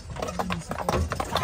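Hooves of a large horse pulling a carriage clip-clop in a quick, uneven rhythm at close range, with faint voices in the background.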